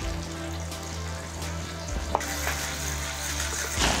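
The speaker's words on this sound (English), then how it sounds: "once the butter is melted, we can saute everything together" Diced vegetables sautéing in melted butter in a pan, producing a continuous close sizzle with a low steady hum, a sharp clink partway through and a few light scraping stirs.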